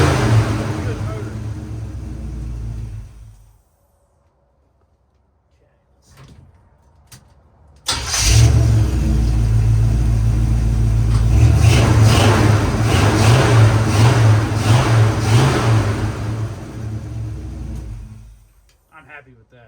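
A Chevrolet Blazer engine turns over and catches after a short pause, then settles into a loud, close rumbling run with revs rising and falling before cutting off near the end.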